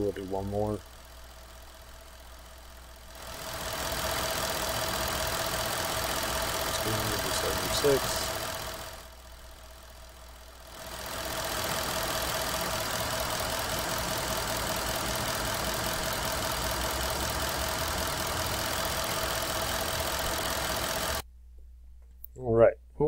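A diesel truck engine runs through a cylinder diagnostic test, idling with a steady drone that rises in level and drops back twice; someone talks briefly at the start and the end.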